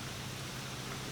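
Steady rain falls outdoors in a continuous, even hiss with no breaks or voices, loud and close throughout the short stretch.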